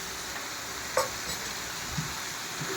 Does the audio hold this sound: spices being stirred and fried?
yes